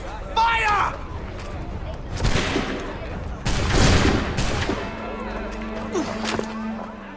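A gunfire volley in Assassin's Creed 3, heard as several loud, ragged bursts of musket shots with crackling reports over a couple of seconds, followed by lower battle noise and a steady hum.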